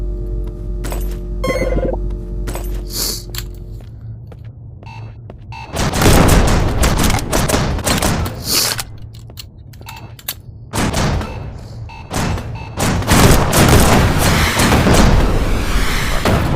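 Rocket blasts and rapid gunfire in the VR shooter game Shotwood VR, fighting zombies, with bursts of loud booms and rattling shots after a quieter start of clicks and mechanical sounds.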